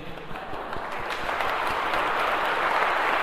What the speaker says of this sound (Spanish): Les quiero dar un aplauso a ustedes hoy